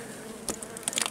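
Honey bees buzz around an open hive while a beekeeper inspects two swarms, a faint steady hum broken by a few brief closer passes of individual bees.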